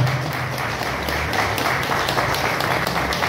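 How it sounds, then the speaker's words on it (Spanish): A crowd claps steadily and warmly for the journalists of San José de Chiquitos at a ceremony, dense applause filling the whole stretch with faint voices beneath. "un buen aplauso primero también para de manera felicitar"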